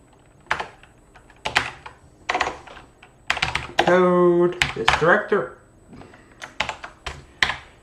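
Someone types on a worn, failing computer keyboard with quick clicky bursts of keystrokes. A brief stretch of speech cuts in partway through, and the typing then resumes in scattered taps.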